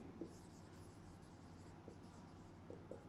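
Faint chalk or marker strokes on a classroom board during a maths lesson, a few soft scratchy taps and scrapes spread over a quiet, hissy room.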